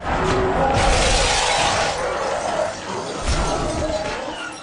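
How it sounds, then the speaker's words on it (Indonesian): Glass shatters loudly as a man crashes through a window to escape in the 2007 zombie film I Am Legend, a long sustained burst of breaking and scattering shards filling the whole clip. "Pas si dokter nerobos kaca buat keluar."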